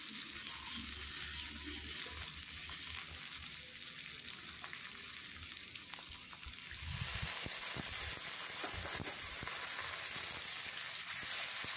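Ginger garlic paste frying with chopped tomato for aloo dum, a soft, low sizzle that jumps to a brighter, louder hiss partway through, with scattered stirring scrapes.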